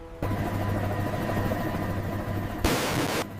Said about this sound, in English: A mine detonated in sympathy. The secondary explosion launched debris 30 meters.